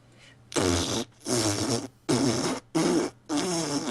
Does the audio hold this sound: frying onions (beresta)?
no